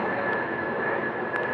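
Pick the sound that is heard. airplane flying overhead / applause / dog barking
airplane flying overhead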